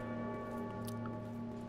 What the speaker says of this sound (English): every single time you hear that bell toll